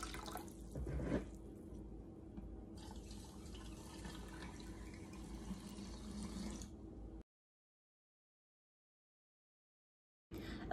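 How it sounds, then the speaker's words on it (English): A cup is filled with water from a Berkey filter, a quiet, steady trickle with small drips that runs for several seconds and then stops abruptly into silence. "I literally am just gonna fill this up with water."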